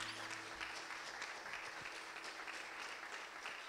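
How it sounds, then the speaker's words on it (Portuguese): A church congregation applauds together during a worship service, a dense, steady wash of clapping that continues throughout with no break. "Vamos aplaudir o nosso Deus."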